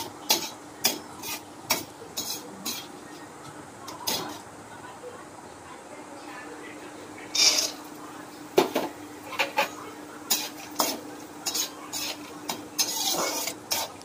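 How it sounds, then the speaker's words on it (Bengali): Flattened rice (chira) fries in hot oil with a soft sizzle, punctuated by sharp clinks and scrapes of a utensil against the pan, near and moderately loud. "এইভাবে আমি পুরো চিড়েটা ভেজে তুলে নেব।"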